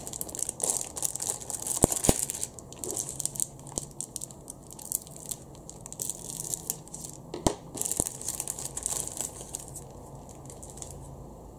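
A plastic bag holding sprues from an Academy 1/35 Pz.Kpfw. 35(t) model kit crinkles and rustles in irregular bursts, close up, with a few sharper crackles and no voices.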